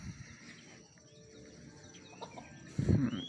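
A chicken clucks a few times amid faint outdoor background noise, with a louder burst of clucking near the end.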